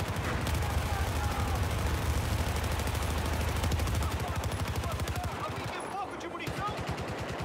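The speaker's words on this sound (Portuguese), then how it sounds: "É só te ficar atirando." Battlefield 4 zombie mode firefight with rapid machine-gun fire hammering in a steady, dense stream, loud and close, thinning toward the end, while players talk over it.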